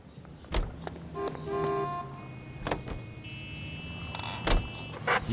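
Car in a PS4 video game, heard as a few sharp knocks and clicks along with brief electronic tones and a low mechanical hum, fairly close and without speech.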